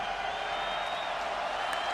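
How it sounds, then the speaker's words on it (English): Steady roar from a capacity stadium crowd of mostly Arkansas Razorback fans in NCAA Football 2025, a continuous hiss-like wash of cheering with no breaks. "this capacity crowd that is majority Razorback fans getting loud"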